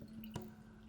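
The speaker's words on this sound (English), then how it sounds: "So keep pouring the rest of the water into your water filter." A single faint drip of water falls through a homemade filter, one brief plop against a quiet background.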